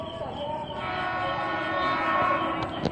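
An eight-car Tokyo Metro 6000 series KRL commuter train rolls past at night with a steady rumble and wheel noise, tonal squeals above it, and a faint horn-like note, loud and close throughout.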